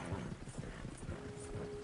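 Horses gallop in Red Dead Redemption 2, their hooves pounding in a fast, steady rhythm, faint and distant under a constant rolling backdrop.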